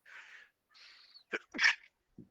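A single sneeze bursts out after a couple of soft breathy inhales, close and fairly loud, followed by a short faint sound at the end; no talking within.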